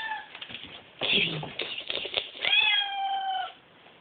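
A hungry house cat meows loudly and repeatedly, with drawn-out calls close by, mixed with a person's voice coaxing it.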